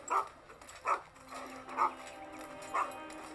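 Four short dog barks sound at uneven intervals, moderately loud and a bit distant, over a quiet background hum.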